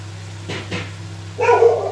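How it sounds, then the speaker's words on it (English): Dog barking at a house during home cooking: two short barks close together, then a louder, rougher bark a moment later, over a low steady hum. "sorry our dog is barking"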